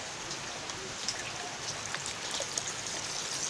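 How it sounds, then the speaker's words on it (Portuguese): Liquid multipurpose cleaning soap poured into a bucket of water, a steady continuous trickling pour running the whole time at moderate level, with no talk over it. "Vou adicionar um desse todo dentro do nosso balde de água."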